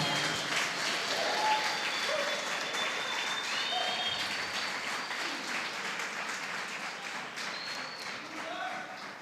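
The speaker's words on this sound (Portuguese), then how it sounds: "se você crê, se expresse e dê um forte aplauso para o Senhor Jesus Cristo." A church congregation breaks into sustained applause for Jesus Christ, a dense, even wash of many hands clapping that holds steady for several seconds, with faint voices and shouts over it.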